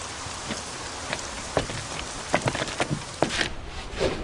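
Steady rain pours down, hissing continuously, with scattered louder drips and splatters landing close by on hard surfaces; no voices.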